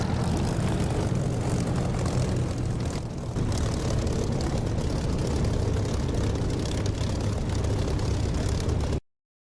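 Propeller engine of a Spitfire in the DCS flight simulator, a steady, loud droning hum with a brief dip partway through before continuing, then cutting off abruptly at the end.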